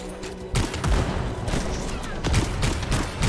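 Rapid bursts of gunfire and blasts from the video game Anthem, loud and dense, crackling in quick overlapping volleys.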